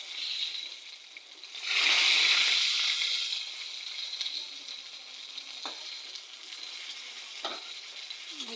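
Pieces of fish fry in oil for a large batch. A steady sizzle surges into a loud burst of spitting hiss, then settles back to a softer crackle broken by a few brief stirring knocks.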